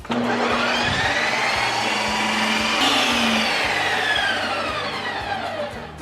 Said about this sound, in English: Put the lid on, pop it in the machine, turn it on, and hit light ice cream.